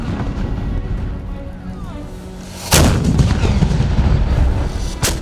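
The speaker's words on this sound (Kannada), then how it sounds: "ರಾಷ್ಟ್ರಗೀತೆ ಕೇಳಿಬರುವ 53 ಸೆಕೆಂಡುಗಳಲ್ಲಿ 21 ಬಾರಿ ಕುಶಾಲತೋಪು ಸಿಡಿಸಲಾಗುತ್ತದೆ." A ceremonial cannon fires during the Mysuru Dasara drill: a loud, sharp boom breaks in midway and rolls into a long rumble, and another shot hits at the very end over outdoor wind noise.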